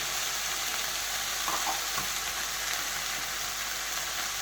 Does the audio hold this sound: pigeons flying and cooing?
no